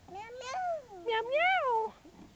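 A young child imitates a cat, producing two drawn-out, sing-song meows with rising and falling pitch, close and clear in a quiet room.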